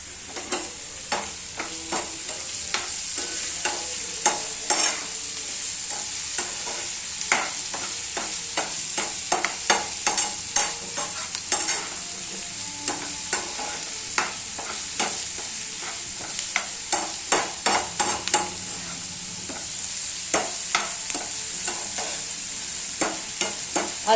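Onions with salt frying in a pan, a steady close sizzle broken by frequent sharp clicks and scrapes of stirring throughout.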